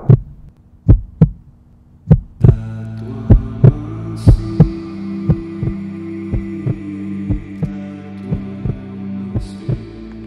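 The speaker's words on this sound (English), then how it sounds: "That would be the heartbeat." A heartbeat thumps steadily, loud and close at first, then continues as a regular pulse under a low sustained hum and soft musical tones.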